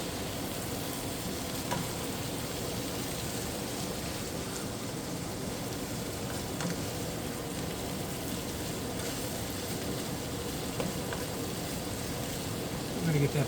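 Cabbage stir-frying in a pan, a soft, continuous sizzle and crackle that stays even and fairly quiet throughout, with faint stirring sounds.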